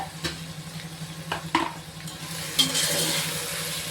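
Chopped beans with ginger and garlic are stirred in a pressure cooker for vegetable biryani, giving soft sporadic scrapes and clinks over a faint low sizzle, close and fairly quiet.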